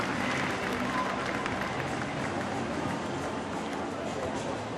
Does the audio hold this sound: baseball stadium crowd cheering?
yes